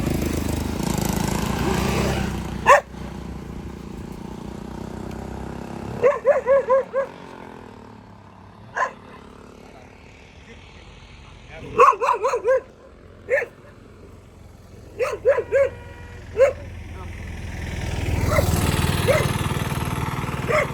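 Several stray dogs around a Doberman on a training walk outdoors, barking in short bursts of single and clustered barks over a steady motor-like hum, with some talking nearby.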